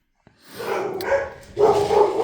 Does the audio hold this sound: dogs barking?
yes